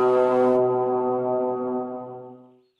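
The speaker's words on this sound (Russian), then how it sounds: "Это охотничий рог." A hunting horn in a cartoon sounds one long, steady, tonal blast that holds for about two seconds and then fades out. It plays alone with no talk.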